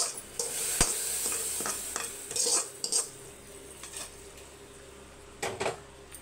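Vermicelli stirred and roasted in a pan over a low flame, with intermittent scraping and clinks of a spoon against metal over a faint background sizzle, the sharpest clanks near the start and end.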